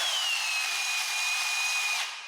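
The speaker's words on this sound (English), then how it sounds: "I'm drilling more in the center of the bracket to give us a little bit more of adjustment" Power drill boring into a wall through the center of a TV wall-mount bracket, a loud continuous whine at close range with a slowly falling pitch, easing off at the very end, with no talking.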